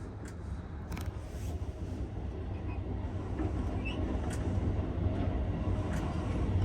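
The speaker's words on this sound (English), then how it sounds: "An eastbound Norfolk Southern manifest heading down the east slope." An eastbound Norfolk Southern manifest freight train, two to three miles long, rumbles steadily down a mountain slope, a continuous low roar that holds evenly throughout with faint clanks above it.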